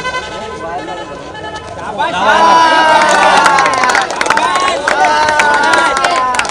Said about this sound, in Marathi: प्रेक्षकांची प्रचंड गर्दी इथे